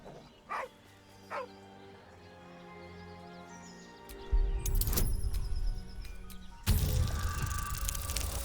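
A dog in Baldur's Gate 3 gives two short barks, then a rising growl builds into louder, sustained snarling with harsh bursts, close and prominent over a low game ambience.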